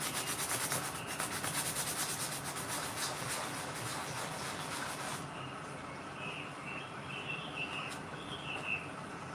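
Steady scratchy rubbing of sandpaper on a surface, close and continuous, then fading to a softer rasp as birds chirp faintly in the background.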